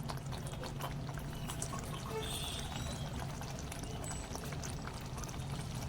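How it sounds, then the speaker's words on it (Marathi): Water poured into a pot of traditional Konkan cucumber dhondas (jaggery cake batter) on low gas, a steady continuous pouring wash with faint trickling, close and even throughout. "मी हा त्याच्यात पाणी घालतोय"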